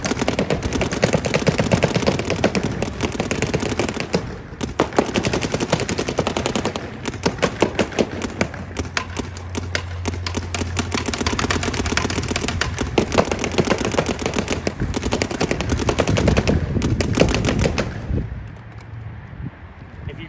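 A CS2 mechanical frame kit paintball marker fires in a long, rapid stream of sharp pops with gusty wind noise behind, the burst running almost continuously before stopping near the end.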